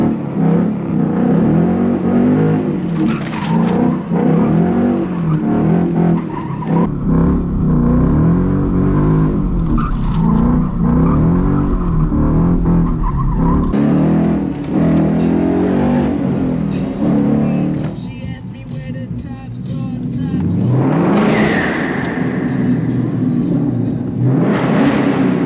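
A Ford Mustang GT S550 drifts and revs hard nearby, its V8 roaring through rising and falling throttle sweeps with a brief lull before climbing again.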